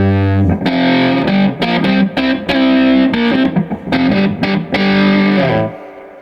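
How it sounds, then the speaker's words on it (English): An electric guitar played through a heavy fuzz distortion pedal, thick chords and notes chopped in short bursts, loud and close, ringing out at the end. "that pedal is a great fuzz distortion pedal"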